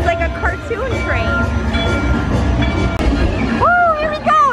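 Ride train at Mickey and Minnie's Runaway Railway, a cartoon-train attraction: a steady rolling rumble with rising and falling squealing tones, and people chattering excitedly over it.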